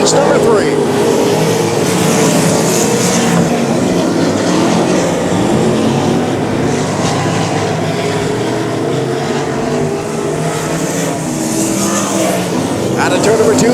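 Sprint cars roar around a dirt oval speedway in a heat race, a loud steady wash of engine noise throughout with an announcer talking over it.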